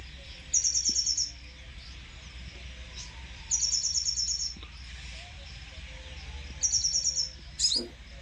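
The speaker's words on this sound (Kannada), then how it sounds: "ಕೆಲವೊಂದು ಫ್ಲೈ ಕ್ಯಾಚರ್ ಅಂದರೆ ನೊಣ ಹಿಡುಕ ಪಕ್ಷಿಗಳು ಮಧುರವಾದ ಗಾನಗಳನ್ನು" A flycatcher sings outdoors in three short, bright, rapid trilling phrases spaced a few seconds apart, moderately close over a quiet background hum, with a brief extra chirp near the end.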